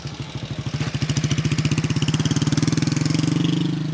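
A motorcycle engine idles close by with a rapid, evenly pulsing thump that grows slightly louder and steadier as it runs.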